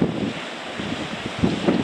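Strong wind gusts buffet the microphone on New Aberdour Beach in Scotland, roaring continuously with surf rushing in the background.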